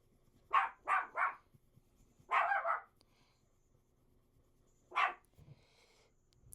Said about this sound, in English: I'm really hoping that dog barking is not too loud in your ears.